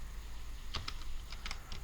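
Quiet keystrokes on a computer keyboard come as a few short, soft clicks spread over about a second, with no talk.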